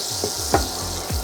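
Diced shiitake mushrooms sizzling in butter in a saute pan, a dense steady frying hiss close by with a few soft stirring scrapes.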